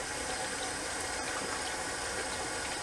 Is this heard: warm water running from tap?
yes